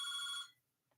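A telephone ringing with a bright, shrill electronic trill that lasts about half a second before stopping, followed by near silence and a faint small click.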